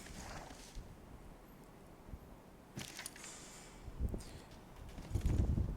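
Horse hooves in Civilization 6, with Mongol horsemen moving into position, make faint, scattered clip-clop beats with rustling, ending in a louder cluster of thuds.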